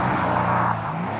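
Porsche 911 993 Carrera driving past, a short, loud, boomy engine drone that holds steady and then eases off.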